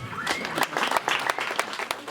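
An audience applauds in a dense burst of clapping, many hands striking together at close range, with a voice heard underneath.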